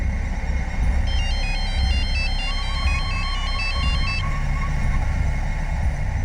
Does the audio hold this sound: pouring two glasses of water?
no